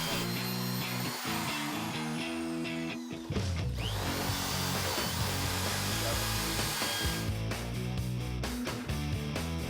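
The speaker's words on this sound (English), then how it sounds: "use a long 3/8 inch drill bit or a 5 inch 7/16 drill bit." A power drill with a long 3/8 or 7/16 inch bit bores into wood trim during a lock installation, a loud, grinding whir with shifting pitch and a brief pause partway through.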